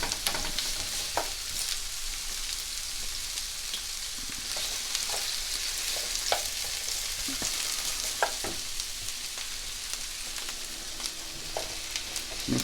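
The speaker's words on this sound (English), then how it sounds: "And I'm now going to throw the onions in. And it's at 3/4 heat." Onions frying in a pan at three-quarter heat for a stir fry, a dense steady sizzle with scattered sharp crackles and pops, close and continuous throughout.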